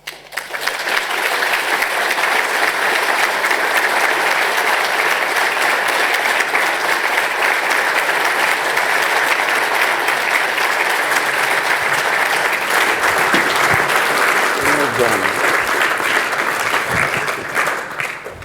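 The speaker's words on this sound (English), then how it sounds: "A wonderful round of applause and fully deserved." A lecture audience at a London Society event applauds in a room, a loud, dense, steady round of clapping that holds for most of the stretch before tapering off at the end.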